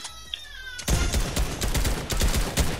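Rapid bursts of gunfire in a Fortnite Creative hide-and-seek match, loud and dense after a quieter start, with repeated sharp shots running together almost continuously.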